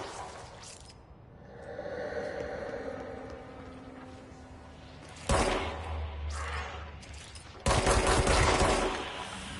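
Rapid bursts of automatic gunfire in the video game Control, loud, sharp volleys breaking out over a steady rumbling game background, with heavier barrages near the end.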